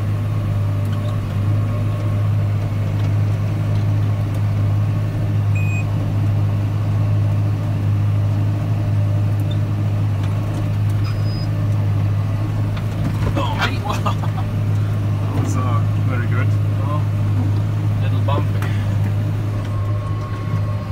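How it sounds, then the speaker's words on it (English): A tractor PTO turning at 540 RPM drives a baler, giving a loud, steady low mechanical drone throughout, with voices talking over it. "that's what's operating the baler"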